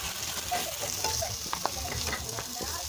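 Spicy beef and cabbage stew sizzles steadily in a pot with a constant frying hiss and a few soft clinks of stirring, no voices over it.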